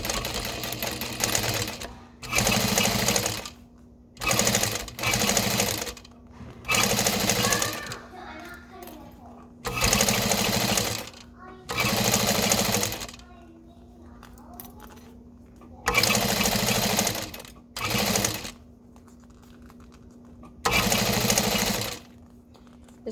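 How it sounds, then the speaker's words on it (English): A sewing machine runs loud and close as it stitches along a vinyl strap, about ten separate bursts of a second or two each, with quiet gaps and faint talking between them. "we're just gonna keep sewing. I am not back stitching here."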